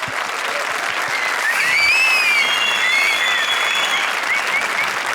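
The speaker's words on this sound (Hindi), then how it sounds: "जोरदार तालियां हमारी सारी सुरक्षित जोड़ियों के लिए।" Dense, sustained studio-audience applause on the Comedy Circus Ke Ajoobe comedy show, loud and even throughout, with shrill whistles cutting through the clapping.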